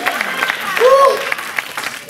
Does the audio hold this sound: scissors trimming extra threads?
no